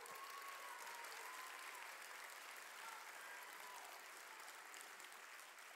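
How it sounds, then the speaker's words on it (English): A concert crowd applauds steadily at a show in an arena, a broad, even wash of distant clapping and cheering with faint tonal hum, quiet and continuous throughout. "Give him a round of applause."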